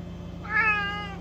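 A house cat gives a single clear meow close by over a steady low hum, with no one talking.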